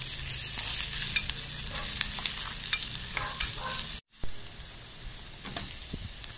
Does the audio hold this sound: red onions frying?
yes